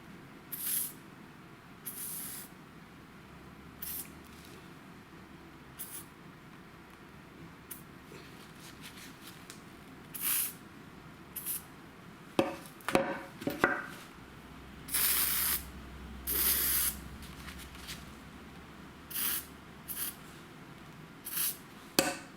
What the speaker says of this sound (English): Give them a bit of a squirt.